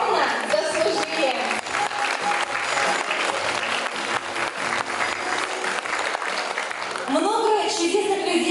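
A large audience applauds the staff of a lyceum at its jubilee celebration, with sustained, loud clapping throughout and musical tones audible underneath at the start and end.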